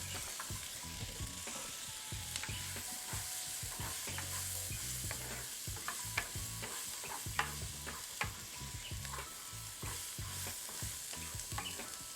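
Pumpkin stir-frying in a hot pan, a constant sizzle broken by repeated scraping and clacking as the spatula stirs, close up with no talking.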